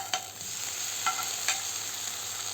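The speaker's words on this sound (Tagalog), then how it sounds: "Lagyan na natin sibuyas." Onions fry and sizzle in oil in a pan, a steady bright hiss with a few stirring scrapes and clinks, close and with no talk.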